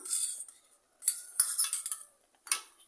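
A spoon stirs semiya kesari with sugar in a pan, giving close, bright metallic scrapes and clinks in three short bursts separated by near silence.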